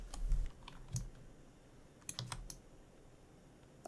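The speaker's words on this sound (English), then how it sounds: "I can type in ATM into here" Computer keyboard typing during a digital texture workflow, a short burst of light clicking keystrokes in an irregular rhythm, quiet and close with no talking.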